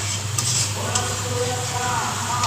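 Spices frying in oil for a fish curry with vegetables, a continuous dense sizzle with a couple of faint utensil clicks, close and steady throughout.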